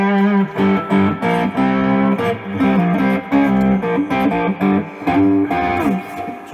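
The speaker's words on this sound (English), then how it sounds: "Let me turn some distortion on." A three-string Andalusian Bull cigar box guitar played through distortion, loud chugging chords and riffs in short rhythmic bursts with brief gaps between them, close and upfront with no voice.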